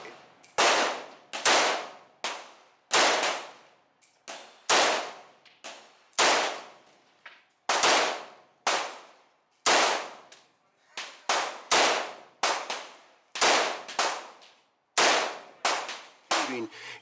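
A rifle fitted with a reflex sight fires a rapid series of sharp, loud gunshots outdoors, about twenty cracks in irregular bursts, each followed by a short decaying echo.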